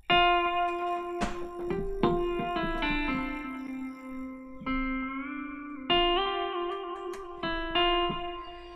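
An electric guitar played through effects, with sustained, singing notes and soft bends over a steady held drone, fairly quiet and reverberant, alone without talk.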